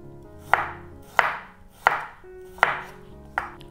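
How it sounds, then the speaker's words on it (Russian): A knife slices garlic cloves into thin slices on a cutting board, five crisp, evenly spaced chops about two-thirds of a second apart, close and clear with no talk. "И пластинками нарезаю чеснок."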